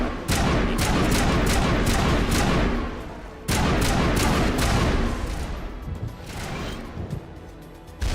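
Semi-automatic assault rifle fire in the video game Mass Effect, aimed at Geth enemies: loud, dense volleys of rapid shots in one long burst. A short pause follows, then a second burst that thins out into scattered, quieter shots.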